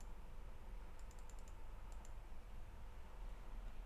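Typing on a computer keyboard while entering an authorization header for a Django and Vue API: a short burst of light, quick key clicks, faint and close, over a low background hum, with no talking.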